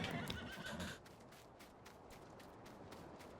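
A horse in the Farming Simulator 19 video game whinnies once at moderate volume, after which steady ambient farm noise carries on with soft periodic clops.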